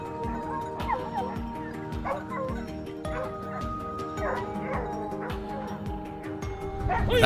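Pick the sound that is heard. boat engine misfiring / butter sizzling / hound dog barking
hound dog barking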